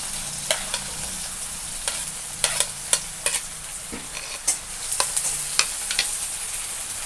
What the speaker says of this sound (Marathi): हिरवी मिरच्या तेलामध्ये टाकून घेते जे छान असा तिखटपणा त्याचा उतरला जातो त्याच्यानंतर मी कांदा टाकलेला